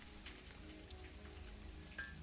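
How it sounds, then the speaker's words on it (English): In the video game Satisfactory, soft rain patters on a metal roof as a quiet, steady hiss with scattered drop ticks. "I really like the rain effect, the rain sounds on the metal roof of this."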